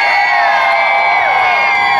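A live show audience in New Orleans cheers, whoops and shouts in a dense, continuous roar of many voices, loud and sustained.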